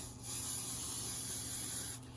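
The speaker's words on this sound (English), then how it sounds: "give it a good spray." A single steady hiss of hairspray from an aerosol can, lasting nearly two seconds, close and fairly quiet, starting and stopping abruptly.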